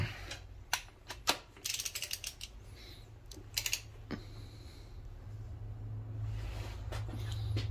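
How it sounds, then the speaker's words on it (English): A torque wrench ratchets in short clicking bursts while tightening intake manifold bolts on a Subaru WRX STI 2.5L, set to 18 foot-pounds; the mechanical clicks come close and fairly quiet over a steady low hum. "This is set to 18 foot-pounds, so we'll give it a try."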